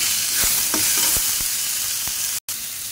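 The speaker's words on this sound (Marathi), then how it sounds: "टोमॅटो पण ह्याच्यातच थोडंसं परतायचं छान" Tomatoes sautéing in misal masala for misal pav, a steady loud sizzle with a few sharp stir clicks, then a brief dropout near the end.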